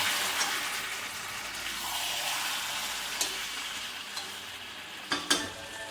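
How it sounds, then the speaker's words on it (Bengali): Chicken pieces for Bengali-style kasha frying uncovered in a pan over a gas flame, with a continuous close sizzle and a few sharp clinks as the meat is stirred. "মাংসটাকে আমরা না ঢেকে কষাতে শুরু করে দিয়েছি"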